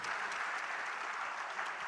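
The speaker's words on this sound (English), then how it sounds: "Can we please have a round of applause for Jan?" Audience applause at a panel discussion on environment and sustainability, a steady wash of many hands clapping, moderately distant and fairly soft, with no voices over it.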